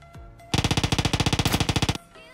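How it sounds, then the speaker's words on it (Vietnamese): Automatic rifle fire in PUBG Mobile, a loud rapid burst of about twenty evenly spaced shots lasting around a second and a half, close and dominating before cutting off abruptly. "Có bắn nhau này."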